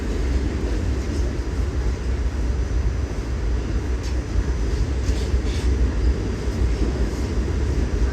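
Older New York City subway cars ride along an L train route toward Brooklyn, filling the space with a steady, loud low rumble and rattle. Faint squeaks break through now and then, and no one speaks.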